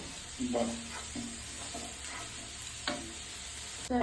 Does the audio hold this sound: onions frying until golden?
yes